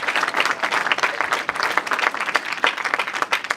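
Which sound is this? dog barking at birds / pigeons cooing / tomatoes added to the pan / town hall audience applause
town hall audience applause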